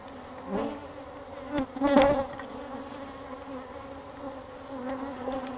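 Agitated honeybees buzz around an open hive while a frame is added, a steady close droning hum with a few louder passes as single bees fly near.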